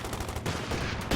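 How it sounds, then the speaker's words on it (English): Bazooka rounds striking targets in the strategy game Company of Heroes 2: a rapid cluster of sharp, punchy impacts and bursts of gunfire, dense and overlapping, with no voices. "Couple bazookas connect."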